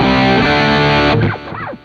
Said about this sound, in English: there's kind of a fuzzy sound, especially if you dime the boost out all the way